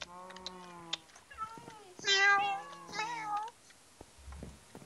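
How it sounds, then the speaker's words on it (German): A cat in the Minecraft video game meows several times, short high mewing calls with a louder, drawn-out pair in the middle and some faint clicks between them. "Ne Mieze Katze."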